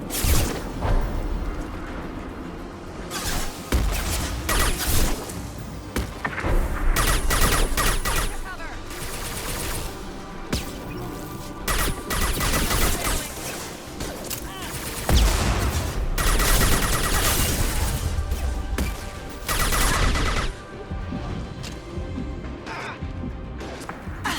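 Gunfire in a firefight in Mass Effect 2, dense bursts of rapid shots and crashing impacts under continuous game noise, loud and sustained.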